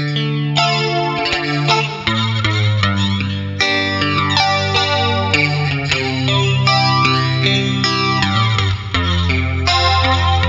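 Electric guitar through a Nux MG300 pedal on a flanger patch plays a steady stream of swirling, shimmering chords and notes, loud and continuous with no voices, in a traditional Vietnamese style.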